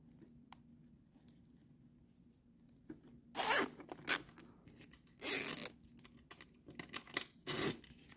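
Zipper on a handmade sewn fabric school pencil case being pulled and handled in several quick, close raspy bursts separated by quiet pauses, with no talking.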